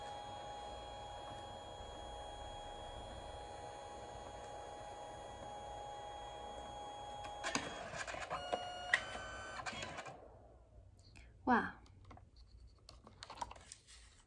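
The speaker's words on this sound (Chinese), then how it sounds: "这样就打印完了" A colour inkjet printer running a multi-pass print job on a page, with a steady mechanical whir and hum that stops abruptly, followed by a few scattered clicks and faint rustling.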